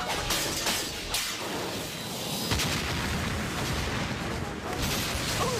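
Bombs exploding across an uninhabited neighborhood in the 1994 animated Spider-Man series, a dense run of booms and rumbling blasts over a noisy wash, loud and continuous.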